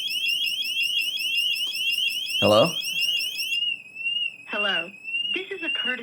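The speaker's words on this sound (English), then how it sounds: "that is the experience with setting off this alarm" A eufy ExpertSecure home security system sounds its water leakage alarm, a loud sustained warbling electronic tone that runs through most of the clip and then changes pitch, while a person speaks briefly over it.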